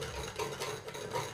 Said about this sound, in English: it's really important to keep stirring this stuff, to keep that additive suspended in there